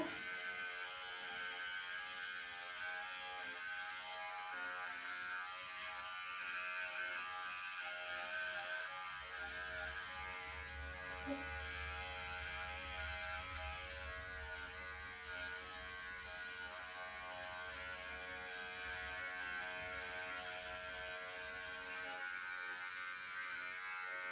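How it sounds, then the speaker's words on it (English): Electric dog clippers trim the fur on a poodle's foot, a continuous close, even motorized buzz running without pause, with small shifts in tone as the blade works. "Get my clipper."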